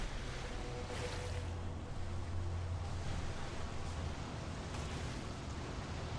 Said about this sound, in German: Wasser, wie kommt das nur? Überall Wasser.